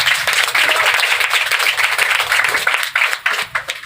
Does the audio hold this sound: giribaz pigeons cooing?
no